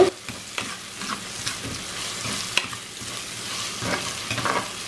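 Sliced breadfruit sautéing in a pan for a Sri Lankan stir fry, giving a soft, continuous sizzle broken by light scraping stirs and an occasional clink of the spoon.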